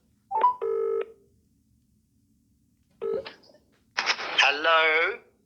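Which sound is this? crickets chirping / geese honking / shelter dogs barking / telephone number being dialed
telephone number being dialed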